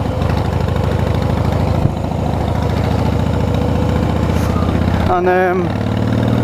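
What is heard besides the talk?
Harley Davidson Rocker motorcycle engine idling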